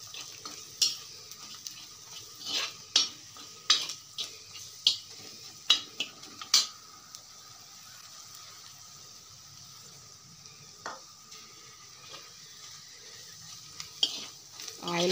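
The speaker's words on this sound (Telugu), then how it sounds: "కొంచెం ఫ్రై అవనిద్దామండి ఈ పొడి కూడా." Coriander and cumin powder frying in oil in a pan, a soft steady sizzle under a series of clinking stirs with a spoon against the metal, close by and without talk.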